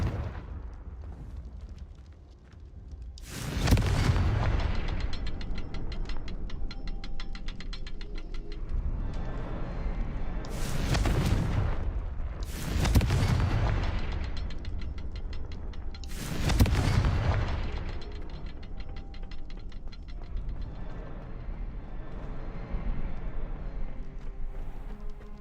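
Repeated Confringo spell explosions in Hogwarts Legacy, four loud booming blasts spaced several seconds apart, each a broad crashing burst over a steady rumbling game background.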